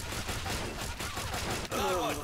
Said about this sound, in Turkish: Bir de hafif makineli bir silah kullandık mı?